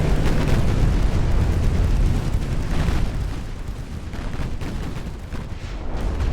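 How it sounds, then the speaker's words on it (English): Naval gunfire from warships in Ultimate Admiral: Dreadnoughts rumbles as heavy overlapping booms and blasts, a loud, sustained barrage that eases slightly toward the end, with no talk over it. "Just the amount of fire going downrange. It's a lot. Lots of shooting."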